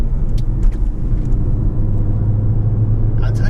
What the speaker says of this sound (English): Ooh, nice pop and burble out of there.